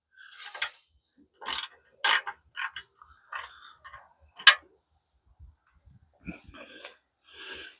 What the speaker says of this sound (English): Another couple of cranks out of this one, and this side will be good.